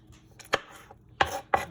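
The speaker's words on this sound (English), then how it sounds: "Just a regular chop, nothing fancy. We just chopping." A knife chopping vegetables on a cutting board, a few sharp close thuds at uneven intervals over quiet kitchen background.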